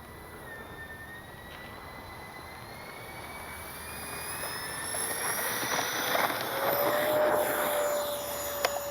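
A twin 70mm jet engine's steady roar swells and grows louder as a Freewing AL-37 RC model jet accelerates for takeoff, with a rising high whine over the noise.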